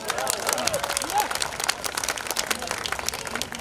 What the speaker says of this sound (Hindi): तो इन तालियों की गड़गड़ाहट रुकनी नहीं चाहिए।